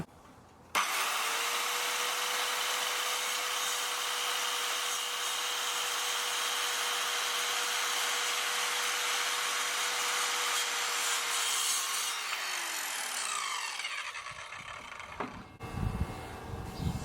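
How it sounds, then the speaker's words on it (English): Evolution R185CCSX multi-material circular saw cutting through a plastic decking board: a loud, steady whining cut lasting about eleven seconds after an abrupt start, then the blade winds down and stops with a few knocks at the end. "Firstly, we've got a lovely piece of new decking to cut up."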